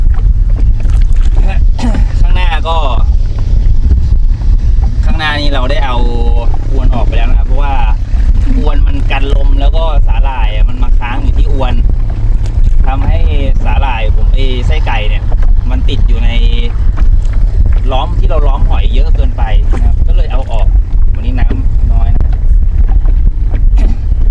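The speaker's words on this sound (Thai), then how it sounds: "ตอนนี้ก็พายเรือ สู้ลมกระดอกกระแดกไปอยู่นะครับผม" Small boat being paddled against the wind on coastal water near a cockle farming area, a steady wash of wind and water noise running throughout beneath someone talking.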